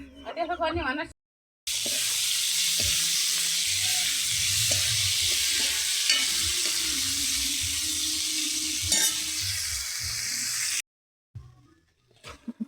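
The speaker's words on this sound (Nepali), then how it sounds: "माछा फ्राई गरेर अब म चाहिँ यो ग्रेभीको लागि रेडी गर्दैछु।" Fenugreek seeds and spices fry in hot oil for a fish curry gravy in a home kitchen, with a loud continuous sizzle and occasional stirring clinks, and someone speaks briefly before and after.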